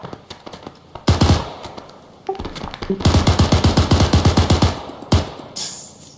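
Machine gun fire in the military shooter Arma 3: loud, close bursts of rapid rhythmic shots, a short burst, a pause, then a long sustained string of rounds and a final single report.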